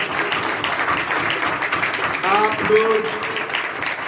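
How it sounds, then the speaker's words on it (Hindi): A church congregation applauds loudly in thanks to the Lord, with a steady wash of clapping running throughout while a voice speaks over it. "जोरदार ताली जाके प्रभु को धन्यवाद दें।"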